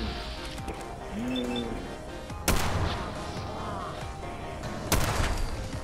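Laser weapons firing in Fallout 4: two sharp, bright discharges a few seconds apart rise over a steady game backdrop, with faint chirps and ambient hum between them.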